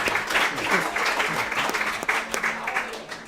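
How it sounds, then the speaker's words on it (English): An audience claps for Coach Bonus of the Liverpool boys soccer team at Avicolli's, a brisk burst of applause mixed with chatter and voices, tapering off toward the end. "Can we clap for Coach Bonus, please?"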